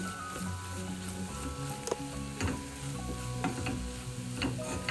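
A spoon stirs prawn thoran in a frying pan, with a steady sizzle under repeated scraping and clinking strokes, close up and fairly loud, with no talking.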